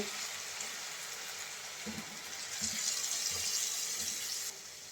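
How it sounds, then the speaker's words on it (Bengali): Water poured into dried loitta fish curry in a pan, a steady broadband pouring rush over a few seconds with soft low bubbling thuds, growing slightly louder midway and then cutting off near the end. "এখন পানি দিয়ে দেব"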